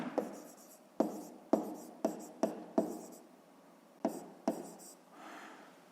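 A pen scratches on paper in short strokes, with sharp taps and scribbles and a softer rubbing stretch at the end, close and quiet, as numbers are written out for a fifth-grade maths exercise.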